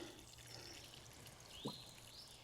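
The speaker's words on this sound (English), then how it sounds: "the water is going directly into the soil" Water trickles and pours faintly into red clay soil around a newly planted perennial, a quiet continuous flow with a brief splash near the end and no talking.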